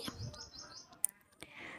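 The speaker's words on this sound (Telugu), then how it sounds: "ఇదిగోండి వచ్చి కీ కీ అని చెప్పేసి ఫుల్ డిస్టర్బ్ చేస్తుంది పిచ్చుక అయితే" A sparrow chirps at a village home at dawn during Bhogi, giving a few short, thin calls in quick succession at moderate distance, fairly faint against quiet morning ambience.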